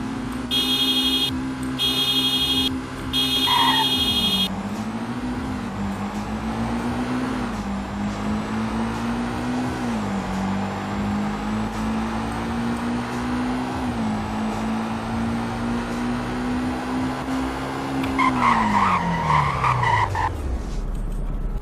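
Cars racing in Roblox Greenville, with a steady synthetic engine drone shifting pitch through gear changes, interrupted by short beeping tones at the start and a skidding squeal near the end.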